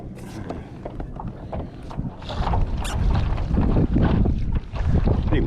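Wind blowing while fishing from a Hobie Lynx kayak, gusty rumbling buffeting against the microphone that builds louder in the second half, with faint water sounds beneath.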